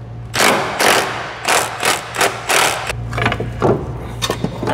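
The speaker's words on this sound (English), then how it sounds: "Got a couple of bolts here we gotta remove." A hand ratchet works bolts loose from a rusty Lexus strut: a rhythmic series of loud, close rasping bursts, a few quick strokes in a row, then a pause and more strokes.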